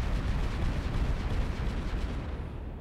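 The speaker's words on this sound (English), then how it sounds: "Alright, plasma cannons on the dreadnought." Plasma cannons firing in the space strategy game Final Theory make a dense, continuous rumbling roar, loud and unbroken for the whole stretch, like heavy barrage fire.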